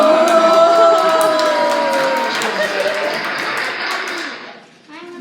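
Crowd cheering and whooping after a balloon dog magic trick, a loud burst of applause and shouts that slowly fades over several seconds.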